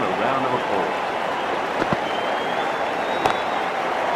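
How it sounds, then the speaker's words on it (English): Crowd applause in the Cricket 24 video game as a new batter walks out, a steady wash of clapping under commentary that runs throughout. "Round of applause."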